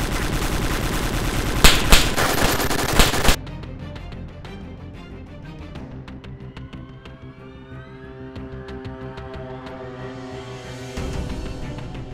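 Rapid bursts of gunfire in the survival video game DayZ, dense and loud for the first few seconds, then scattered quieter shots against a background hum.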